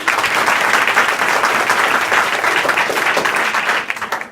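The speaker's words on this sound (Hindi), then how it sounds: "ताली बजाओ बड़े धीरे" Schoolchildren at a school assembly clap together, a dense, even roar of many hands that holds steady and loud before tapering off at the very end.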